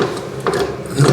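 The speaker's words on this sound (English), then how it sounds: "So I'm just going to get some grips onto here and see if I can slacken that" Slip-joint grips bite and slacken a nut on an overflowing toilet cistern, giving a few close, dry ratcheting clicks and metallic scrapes over about a second, with no talk.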